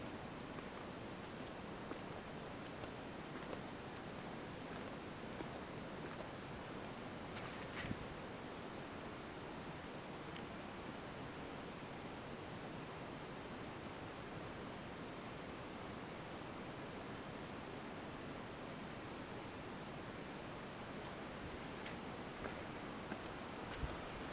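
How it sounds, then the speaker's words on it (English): Steady rushing water flows continuously, a soft broadband wash with no voices, holding even for the whole stretch. "There's a bit of water flow, I can hear it."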